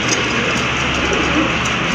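Pigeons of a paired Giribaz and racer stock coo amid a dense, steady wash of loft noise, the calls blended into a continuous close background without clear breaks.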